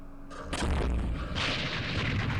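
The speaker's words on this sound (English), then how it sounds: "Artillery. One shot." Artillery fire in the wargame Campaign Series Middle East: a sharp launch followed by a heavy, rumbling boom that sustains with crackling noise for about two seconds, loud and close.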